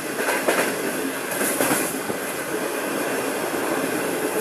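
Sir Syed Express private train running non-stop from Rohri Junction to Karachi, a steady loud rumble of wheels on rails with a constant roar and faint clatter throughout.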